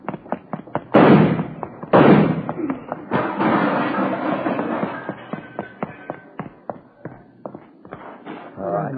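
Gunshots in an old police radio drama: several sharp, loud cracks with booming tails early on, then a scatter of quieter knocks and taps, with a voice speaking between them.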